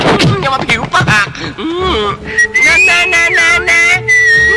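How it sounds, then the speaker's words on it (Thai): A person whistles in a scene from the 1997 Thai action film Peenkleaw Part 3. Talk comes first, then a steady, sliding whistled tune carries over the second half. "อย่ามาผิวปาก"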